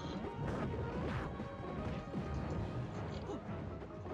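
Items shatter in a Super Smash Bros. singles semifinal between Luigi and Dedede. Loud crashing impacts and smacks come in quick succession over busy game audio and excited commentary.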